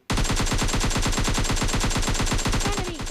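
Gunfire in the mobile battle royale PUBG Mobile Lite: a loud, close, rapid automatic burst of evenly spaced shots lasting about three seconds without pause.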